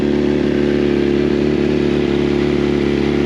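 A motorcycle engine running loud and close, a steady droning hum with a pulsing low throb and slight swells in revs, continuous throughout with no voices.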